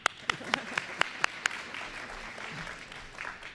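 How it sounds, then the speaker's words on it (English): An audience claps for a new teacher at a public event, a few sharp separate claps at first that blur into a softer, scattered patter of applause. "we can clap for her."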